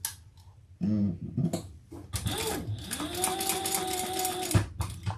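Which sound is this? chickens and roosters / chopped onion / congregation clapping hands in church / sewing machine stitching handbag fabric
sewing machine stitching handbag fabric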